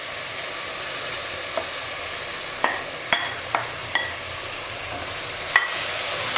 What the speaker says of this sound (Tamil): தக்காளி சேர்த்துக்கலாம்